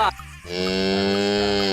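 A battery-powered toy cow lets out a loud, sustained electronic moo, a steady droning tone lasting over a second after a brief click, heard up close with no talking.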